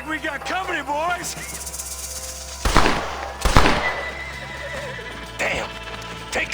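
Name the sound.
horse neighing in Red Dead Redemption video game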